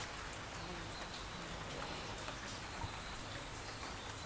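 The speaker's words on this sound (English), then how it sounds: "when it's raining like this" Steady rain falls on the shade netting over a hoya and orchid grow space, a soft continuous hiss without pause and no voices.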